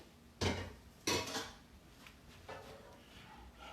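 A metal pan being picked up and moved off the stove while making blueberry pancakes, two sharp clanks early on, then lighter clatters, no talk.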